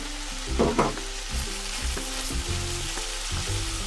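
Okra and green chillies stir-fried over high heat in a pan for masala bhindi: a loud, close sizzle with regular scraping strokes of the spatula about every half second, no voices.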